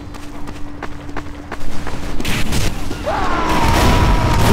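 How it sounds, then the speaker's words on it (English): Grenade launcher fire in Team Fortress 2 comes as a quick run of sharp thuds and booms amid game noise, ending in a denser, sustained rumble. "I'm better off with the standard grenade launcher"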